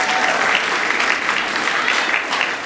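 A crowd at a Latvian folk dance session in Stockholm breaks into loud, dense applause, a sustained wash of clapping close by, with faint voices mixed underneath.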